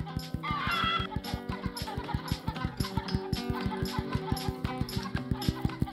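Chickens cluck repeatedly in the mobile farming game Egg, Inc., with a steady rhythmic pulse of game sound effects and music running throughout, loud and continuous with no talking.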